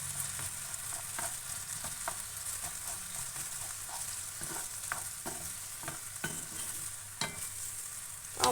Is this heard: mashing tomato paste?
yes